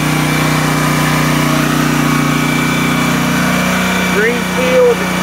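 A Greenfield GT3500LB gasoline generator runs at a steady, loud drone with a constant hum, close by; near the end a brief whistling sound rises over the engine.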